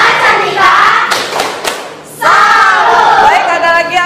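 A classroom group doing a salute clap, sharp rhythmic claps and thumps in bursts with children shouting along, loud and close, pausing briefly before a second round.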